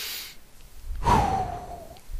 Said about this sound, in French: Vous inspirez sur le côté.